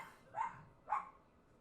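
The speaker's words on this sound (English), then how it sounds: "And now my dogs are arguing with" Two dogs trade a pair of short, sharp barks, one after the other, at moderate distance in a quiet setting.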